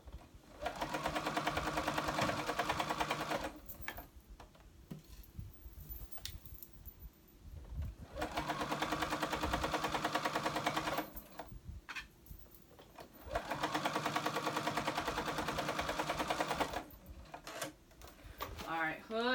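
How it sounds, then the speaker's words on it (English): A sewing machine basting a hood onto a cozy snuggle blanket runs in three long, steady stitching bursts, each loud and close, separated by short quiet pauses. "Baste the hood on so that it doesn't move when I go to sew it all together."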